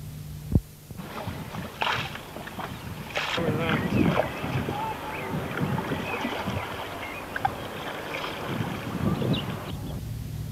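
A replica wooden dugout boat paddled on water, with irregular splashes and knocks against the hull, over gusty outdoor noise and some voices in the background.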